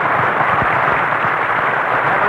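Studio audience applause on the Jack Benny radio program, a dense, steady, loud wash of clapping from a large crowd, heard alone without talk.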